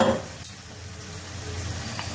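Spice paste tipped into a hot pan for a Bengali cauliflower and egg curry, giving a short clink at the start and then a steady soft sizzle and frying hiss that carries on alone.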